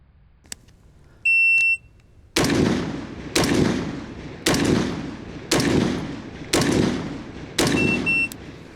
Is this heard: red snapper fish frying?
no